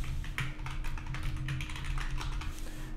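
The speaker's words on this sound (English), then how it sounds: "Now what I'm going to do is actually type in start account." Quick, close keystrokes clatter on a computer keyboard in an irregular typing rhythm over a low background hum, lasting about three seconds with no speech.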